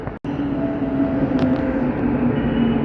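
Chennai Metro train pulling into Koyambedu station, a steady loud rumble and hum with a brief break near the start, sustained throughout with no speech.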